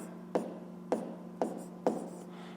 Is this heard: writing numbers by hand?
yes